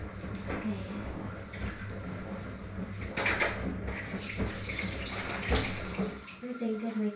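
Tap water running and splashing into a basin, fairly quiet and uneven, with people talking faintly in the background.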